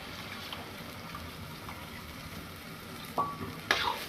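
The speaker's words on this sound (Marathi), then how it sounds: "आता मी त्यात 2 ग्लास पाणी घालत आहे." A quiet sizzle of a frying millet khichdi mix continues until two glasses of warm water are poured in near the end, which sets off a short burst of louder hissing and bubbling.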